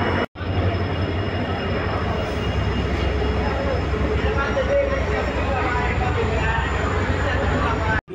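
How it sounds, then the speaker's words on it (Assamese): A train heading to Guwahati rumbles as it arrives at a station, a loud continuous roar with a rushing broadband noise that holds steady throughout. "এয়া গুৱাহাটী অভিমুখী ট্ৰেইন আহি আছে"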